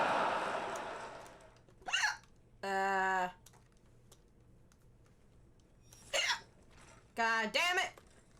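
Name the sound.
hiccups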